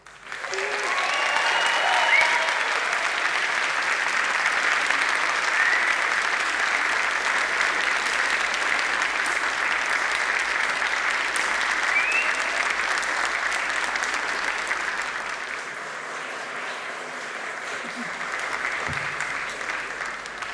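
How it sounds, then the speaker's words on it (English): Graduation audience at the University of Manchester clapping, cheering and whistling in sustained, loud applause that fills the hall for about fifteen seconds before easing slightly but continuing to the end. "show your appreciation to the people who have supported you. Clap, cheer, and whistle."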